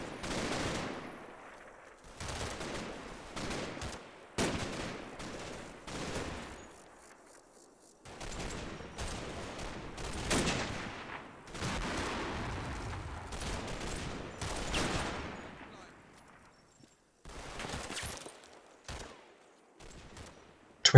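Sustained gunfire exchange from the WWII tactics game Combat Mission, Operation Epsom, with 12th Platoon reinforcements trading fire with the 21st SS: repeated bursts of machine-gun and rifle fire in clusters separated by short pauses, fairly distant and with no talk.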